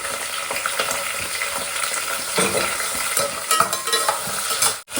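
Sliced onion hits hot oil with peas for Telangana bagara rice, giving a loud, crackling sizzle with stirring scrapes and bursts of spatter throughout.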